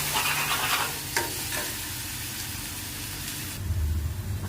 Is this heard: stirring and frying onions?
yes